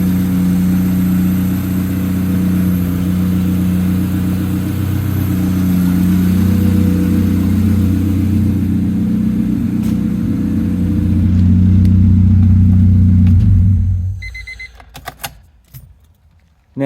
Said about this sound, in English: It's loud, of course, with my old exhaust setup,